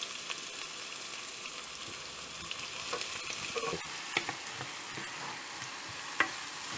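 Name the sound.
chopped onions frying in oil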